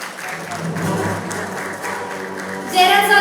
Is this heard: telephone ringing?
no